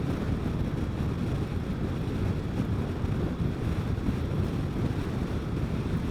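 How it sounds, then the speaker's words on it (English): Heavy, constant wind buffeting roars across the microphone while riding a Vespa GTS 300 Super Sport scooter at speed on a country road, a dense low rumble with no pauses and no talking. "Yeah, that wind just beats you pretty good on a motorcycle."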